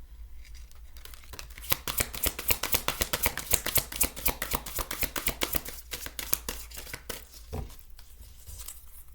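Deck of cards being shuffled, a rapid run of crisp riffling flicks that builds and then thins into a few scattered snaps and taps, close and fairly quiet, with no talk.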